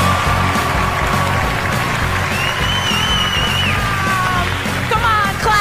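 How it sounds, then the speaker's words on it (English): Applause and cheering from a comedy roast audience as comedian Lisa Lampanelli is brought on, loud sustained clapping mixed with yells and whoops, with a few whistles near the end. "Come on, clap for fat and untalented."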